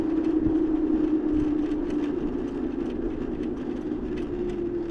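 A TST G2 Plus electric scooter with a 450 watt motor runs at full throttle, making a steady, loud motor hum with a constant droning pitch and rolling road noise throughout.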